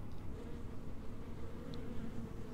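A swarm of bees from Odin's emote in the game Smite buzzes in a continuous low drone, steady and moderately loud with no breaks.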